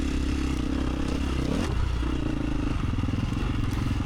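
A cross-country race motorcycle roars close by, its engine droning and shifting in pitch over rough terrain, with clattering and scraping from the ride and no clear talk.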